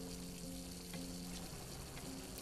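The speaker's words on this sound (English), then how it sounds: "Sounds like water." Water sound in the horror game Layers of Fear, a faint, steady wash of trickling, hissing noise that continues unbroken for a couple of seconds with no voices over it.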